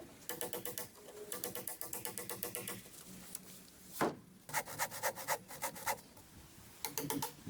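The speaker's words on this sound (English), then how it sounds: "Scribing, using a bubble-level scribe to transfer the exact contour of one irregular log onto another." A bubble-level scribe is drawn along an irregular log during hand-tool cabin building in a forest, giving close, rhythmic wooden scraping strokes in quick bursts with short pauses and no talk.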